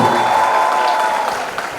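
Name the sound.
audience applause in an auditorium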